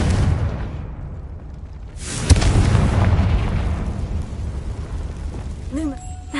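A Confringo spell explodes in Hogwarts Legacy, a sudden loud boom followed by a rumbling, crackling tail over ongoing game ambience.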